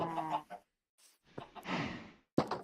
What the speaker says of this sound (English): Try to spawn some more chickens here real quick.